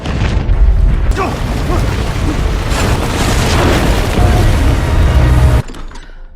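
A loud, rumbling explosion from a Guardians of the Galaxy film, with crackling debris and a sustained roar that cuts off sharply near the end.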